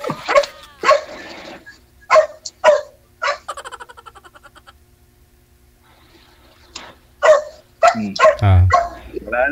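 A dog barks repeatedly nearby: sharp single barks spaced out, a run of quick yips in the middle, then a cluster of louder barks and whimpering sounds near the end, with a person's voice mixed in.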